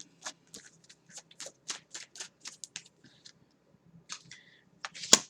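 Cards from a tarot deck shuffle and slide with a string of soft, quick papery flicks and snaps, close and dry, ending in a sharper snap as a card is pulled.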